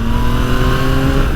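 A Yamaha MT-09 Y-AMT three-cylinder motorcycle engine revving hard as the bike accelerates, a loud, steady, rising growl with no voices over it.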